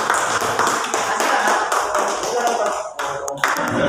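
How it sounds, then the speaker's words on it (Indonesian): Applause from a group at a teachers' training session, a dense steady patter of clapping that thins and breaks near the end, with a voice speaking over it. "tepuk tangan buat Pak Nasir ini"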